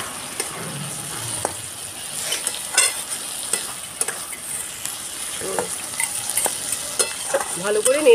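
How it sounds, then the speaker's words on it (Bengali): Egg chowmein stir-fried with soy sauce in a pan over medium heat: a steady close sizzle broken by repeated scraping stir strokes and light utensil clicks, with no talking. "ভালো করে নেড়ে চেড়ে নিচ্ছি,"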